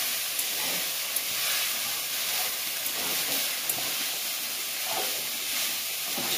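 Chicken mince frying in a pan over a lowered flame, producing a constant broad hissing sizzle with a few faint ticks, no talking.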